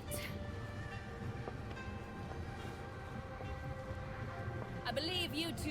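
Steam engine train in Bayonetta 3 game audio: a steady rumbling rail drone with a brief whistle-like tone near the end, mixed under game music and ambience.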